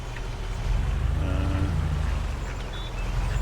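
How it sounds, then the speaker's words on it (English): Ducks quack in Farming Simulator 22 on the Vintage Oaks map, a few faint calls heard mid-distance over a steady low engine rumble from the driven vehicle. "Hear the ducks quacking"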